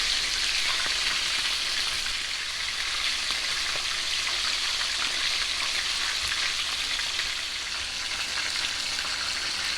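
Three chicken drumsticks frying in a pan, a dense, constant hiss and crackle of hot oil, loud and close, continuing without pause and with no voices.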